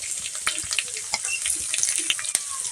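Cumin seeds and green chilies sizzle in hot oil in a home kitchen while an aloo chop filling is prepared, giving a steady close crackle dotted with sharp pops and spits, with no talking.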